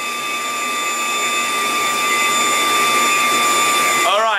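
A homemade foam machine runs with a steady, loud blower-like whir and hiss, ending in a brief rising warble, with no voices.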